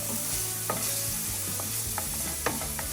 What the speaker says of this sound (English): And you want to stay around this once you're sauteing the garlic, because garlic is very easy to burn.